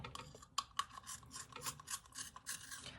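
Colouring pencil turned in a sharpener, producing quiet, close scraping and rasping strokes in an uneven rhythm with small clicks, no voices.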